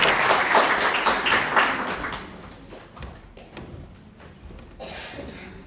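An audience at an Azerbaijani estrada theatre comedy show applauds in a dense, lively burst of clapping that swells for about two seconds and then thins into scattered claps and room noise.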